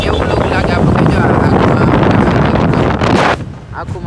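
Strong wind buffets a motorbike rider as he rides along, a loud continuous roaring rush against the microphone that eases off near the end.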